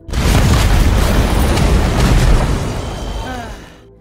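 A huge blast from an action film erupts at once, a loud, deep roaring boom that holds for about two seconds and then rumbles away into silence.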